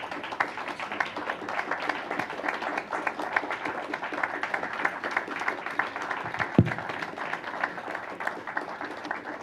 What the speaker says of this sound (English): stand up and let's give everybody an applause